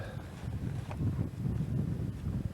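Wind gusting against the microphone, a continuous low rumbling buffet that swells and eases throughout, with no voices.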